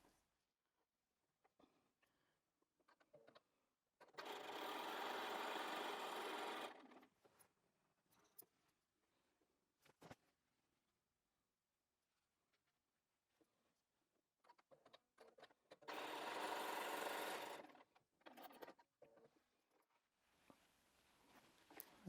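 Sewing machine chain piecing quilt patches for a crazy nine patch, in two steady, fairly loud runs of stitching a few seconds each, with quiet handling of fabric and small clicks between.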